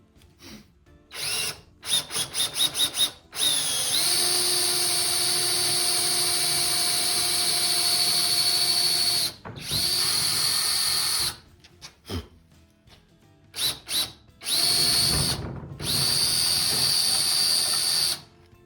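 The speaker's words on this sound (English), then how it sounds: "Go drilling on your next hole." A power drill whirs in bursts while drilling holes for barn doors: a quick run of short pulses, then long, steady high-pitched drilling runs separated by brief pauses.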